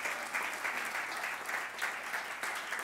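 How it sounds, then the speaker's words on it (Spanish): A church congregation applauds during a sermon, with sustained, fairly loud clapping that swells and dips in waves throughout. "Dale un lindo aplauso al Señor"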